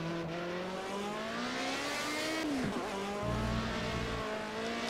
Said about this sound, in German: Ein bisschen zu viel Gas gegeben und schon driftet man.